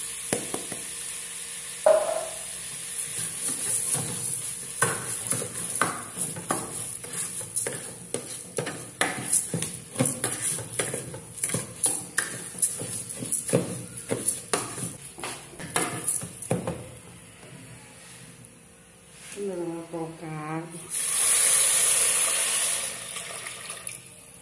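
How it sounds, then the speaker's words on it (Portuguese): Vegetables sauté in a hot pan for a simple home-cooked lunch, a steady sizzle under a fast, rhythmic run of spoon-scraping stirs, followed by a pause and a brighter hiss as rice goes in. "Aqui para esquentar, para refogar aqui as verduras. Eu vou botar meu arroz."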